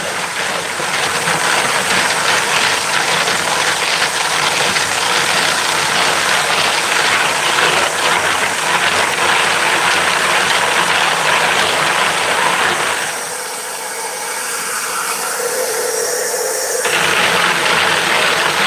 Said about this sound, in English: I'm literally just swirling this around with my hand like this, just to get the stainless steel media out of the casings